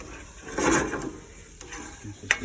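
A roux being stirred in a pan, a soft scraping swirl rising briefly then settling, with a sharp utensil tap near the end.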